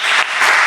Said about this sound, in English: I'd like to give a round of applause to Jack Baker and his presentation